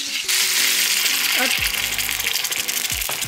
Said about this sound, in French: Je vais mettre de l'eau dedans pour avoir toute la sauce.